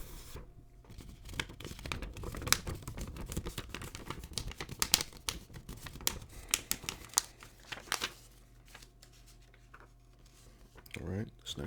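A paper 5 kwacha banknote from Zambia is crinkled and rubbed up close, making dense crackling and rustling bursts for several seconds before the handling thins out into scattered crisp taps.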